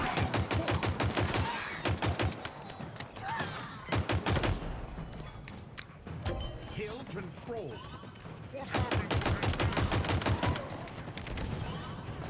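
Rapid bursts of gunfire crack out in a video game, a sniper firing in fast repeated volleys, loud and close, with quieter stretches of game noise between bursts.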